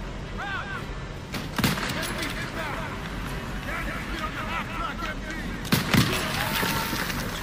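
Gunfire from the World War II shooter Call of Duty WWII, with a constant din of battle and two loud shot bursts standing out near the second and sixth seconds, while background voices and chatter blend into the mix.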